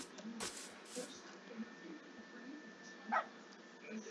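A dog in a video game lets out a few short, faint barks and yips, spaced seconds apart over a quiet, low background with no talking.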